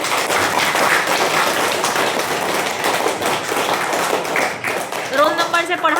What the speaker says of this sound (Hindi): गुड, ताली बजा दो